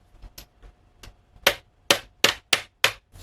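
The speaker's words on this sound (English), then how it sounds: "got a little bolt. I'm just going to hit that till it pops out." A hammer whacks a small bolt to knock it out of a pool cue: a few light taps, then five or six loud, sharp metallic strikes at an uneven, quickening pace, close up.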